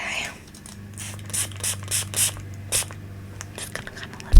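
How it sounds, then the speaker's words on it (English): Perfume from a Bath and Body Works collection is sprayed onto a test strip in a series of short, sharp hissing bursts, about eight in quick succession, with a clunk at the end. "I'm gonna spray it on so you can smell"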